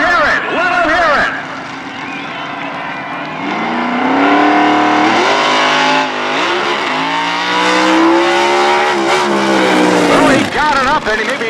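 A race car makes a wheelstand run at the 2020 World Power Wheelstanding Championships, its engine revving loud and close with pitch rising, dipping and climbing again, while voices talk over it.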